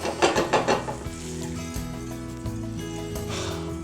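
Red wine mushroom sauce reducing in a pan beside resting steaks gives a constant close sizzle and bubble, opened by a few quick stirring scrapes.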